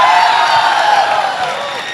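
An audience at a talk-style show cheers and whoops in a dense, loud burst of crowd noise that fades slightly over two seconds.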